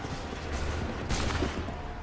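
A volley of musket fire from a line of soldiers in Assassin's Creed 3, a rolling burst of shots with a sharper crack partway through, loud and close against battlefield din.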